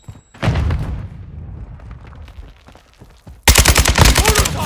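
Semtex grenade blast followed by rapid automatic gunfire in Call of Duty Modern Warfare 2 multiplayer: a heavy boom near the start, scattered shots, then a loud, fast burst of fire close by.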